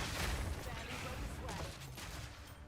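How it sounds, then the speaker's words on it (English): Mortar cannon blasts and rapid weapon fire from a Deadeye character in Path of Exile 2 form a dense, loud, continuous barrage of overlapping shots and explosions throughout, with voices faintly mixed in. "Mortar cannons on the one and then rapid fire on the other."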